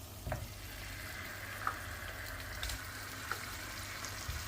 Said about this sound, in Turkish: Bunları şöyle bir kızgın yağın içinde çevireceğiz